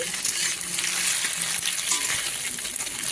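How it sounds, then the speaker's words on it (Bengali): Eggs fry in oil in a pan with a continuous close crackling sizzle, steady and fairly loud, with faint clinks. "ডিমগুলো লাল লাল করে ভাজা হয়ে গেছে"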